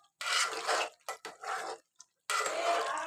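Water poured into a pan of simmering chicken curry to make gravy, heard as splashing, sloshing bursts with short pauses between them, close and fairly loud, with no talking.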